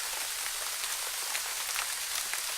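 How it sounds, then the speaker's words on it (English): Steady rain sound effect in a game level patters on a surface, a dense continuous hiss with scattered droplet ticks, even and fairly close throughout. "So just with that tiny little addition of rain in the background"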